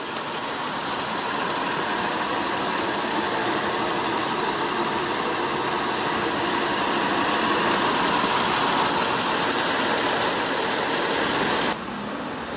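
A 2015 Toyota 4Runner Limited sits with its engine idling, a steady mid-pitched hum that holds constant and close for the whole stretch, with a slight drop in level near the end.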